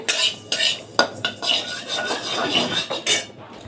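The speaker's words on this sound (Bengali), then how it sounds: "এখন হচ্ছে গিয়ে এই তিলটা ভেজে নিচ্ছি তিলের নাড়ুটা হবে" Sesame seeds dry-roast in a pan, stirred steadily with a metal utensil that scrapes and clinks repeatedly against the pan in an uneven rhythm, close and fairly loud.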